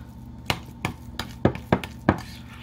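Six sharp, fairly loud knocks and clacks in an uneven rhythm as meatloaf mixture with Parmesan is mixed in a bowl, with no talk.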